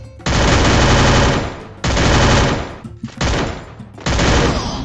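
Sustained machine gun fire in the Free Fire battle-royale game: four loud, dense bursts of rapid automatic shots separated by short gaps, close and dominant with no talking.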